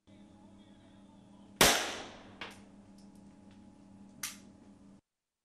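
Veterans of a special-forces unit firing live rounds at shooting practice: one loud, sharp shot followed by two quieter reports, each trailing off into a short echo against a low outdoor background.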